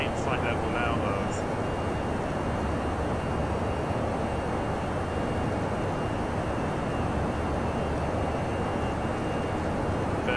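An Airbus A319 in X-Plane 11 at cruise altitude gives a steady, broadband engine roar that stays even and continuous throughout, with no breaks.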